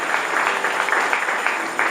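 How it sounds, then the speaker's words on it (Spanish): A church congregation applauds together, a steady wash of many hands clapping that holds at an even, fairly loud level throughout, with no voices standing out. "Alguien tiene que aplaudir a Dios en esta mañana."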